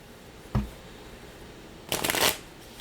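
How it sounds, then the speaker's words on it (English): Tarot cards are shuffled in two quick bursts: a brief riffle, a pause, then a fuller, louder flutter of cards close by, with no voices. "Shuffle once more just in case."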